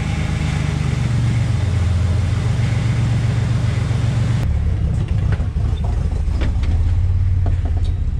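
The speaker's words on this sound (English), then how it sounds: "I'm pretty sure it's just a rough idle" A 1988 Chevy S10's 4.3L engine idling roughly, a loud, close, continuous low rumble with an uneven pulse that shifts slightly midway but never stops.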